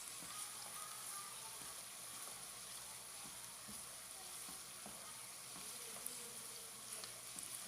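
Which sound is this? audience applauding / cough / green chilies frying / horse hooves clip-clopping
green chilies frying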